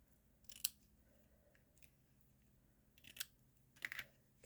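Ribbon ends on a handmade penguin card are trimmed with scissors: a few quiet, sharp close-up snips, well spaced apart against near silence.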